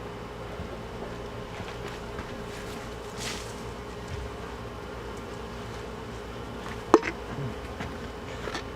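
Honey bees hum in a steady, close drone around an open, weak hive during an inspection, with one sharp click partway through.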